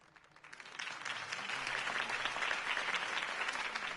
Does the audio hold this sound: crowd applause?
yes